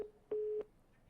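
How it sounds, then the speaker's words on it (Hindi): Telephone busy tone sounding after a call is cut off: steady, clear beeps in a regular on-off pattern, loud and alone with no talk. "फोन कट गया या काट दिया गया"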